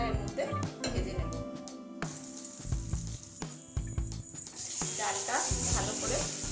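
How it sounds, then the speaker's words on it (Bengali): Lentils fry in a little hot oil in a pan, giving a soft sizzle broken by a spoon scraping and stirring in uneven strokes, close by and fairly quiet. "তেলটা গরম হলে আমি ডালটা এর মধ্যে ভেজে নেব।"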